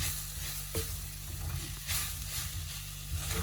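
Prawns and grated coconut stir-fry in a pan for a moringa-leaf dish, with a continuous sizzle and a low hum. Soft scraping stir sounds recur, fairly close.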